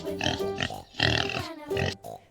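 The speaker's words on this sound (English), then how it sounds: "pig," A pig grunts and oinks in three close, loud bursts, its rough, nasal calls separated by short pauses, with no talk over them.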